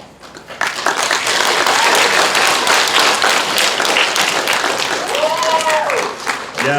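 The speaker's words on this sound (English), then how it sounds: "applaud for Miss Nolan, she's the best" Middle school students in a sixth grade classroom break into sustained, dense applause and clapping that starts abruptly and carries steadily to the end, with faint voices mixed in underneath.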